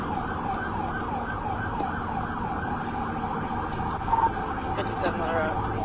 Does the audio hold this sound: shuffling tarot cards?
no